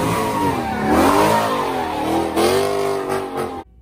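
A car engine at a slider car show in New Orleans revs hard and close, loud rising and falling wails sweeping up and down over several seconds before cutting off abruptly, with no talk over it.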